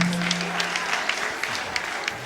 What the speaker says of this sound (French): On a applaudi pour ce monsieur, je vous en prie.